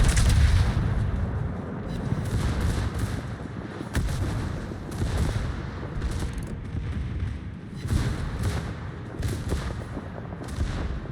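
Warship secondary guns fire at shore targets in a naval video game, a dense, continuous barrage of booms and cracks that stays loud throughout.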